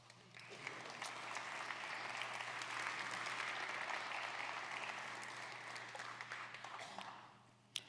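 An audience at a DevOpsDays Kansas City conference applauds its sponsors, a steady wash of many hands clapping that swells and holds for several seconds before tapering off, heard from within the room.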